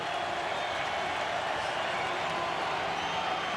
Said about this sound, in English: The crowd here at Raymond James trying to get loud.